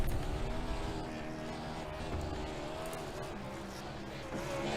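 A race car roars and rumbles while doing burnouts at Bristol Motor Speedway in a racing game, a steady loud engine drone with engine noise from other cars around it.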